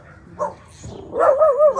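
Two dogs let out a few short barks and yips close by, brief and separated by pauses, in a quiet outdoor setting.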